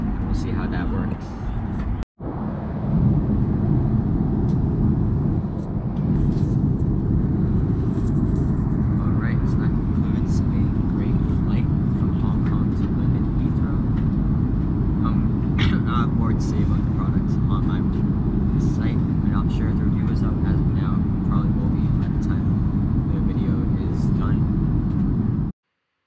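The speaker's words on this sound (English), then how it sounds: "we're about to descend to London Heathrow" Inside the cabin of a Virgin Atlantic Boeing 787 descending toward London Heathrow, a loud, steady low engine and air rumble fills the whole stretch, with a brief dropout near the start and a voice talking over it.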